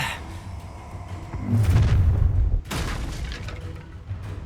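A Stupefy spell cast in a Harry Potter game lands as a deep booming blast, followed by a second sharp burst, set against a low rumbling background.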